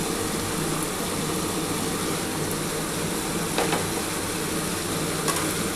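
Whole garlic cloves fry in a pan with chopped tomato for a katla fish dish, giving a dense, continuous, fairly loud sizzle and hiss throughout, with no talking.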